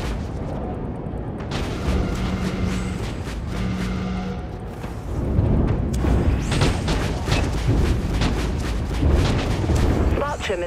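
Ship weapons and missiles fire in Dreadnought as a continuous barrage of booming shots and rumbling blasts. The fire grows heavier and denser halfway through, with voices speaking over it.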